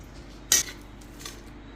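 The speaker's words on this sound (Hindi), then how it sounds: "हमने सारे नट्स को अब ग्राइंड कर लिया है। इसको अच्छे से मिक्स कर लेंगे।" A spoon mixes ground dry-fruit nuts in a bowl, giving one sharp metallic clink and then a faint second tap against quiet background.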